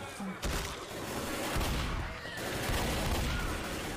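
Gunfire in Left 4 Dead crackles in a near-continuous volley of shots, loud and close, with a few sharper bursts standing out in the chaotic din.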